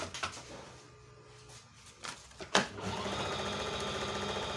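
A Janome Sensor Craft 7001 sewing machine controlled by foot pedal starts with a few clicks and a thump, then settles into a steady, continuous mechanical whir of stitching.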